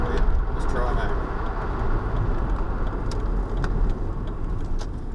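A Citroen XM on a road test: steady, fairly loud in-car rumble of tyres and engine holds throughout as the car slows under braking, with a few faint clicks on top.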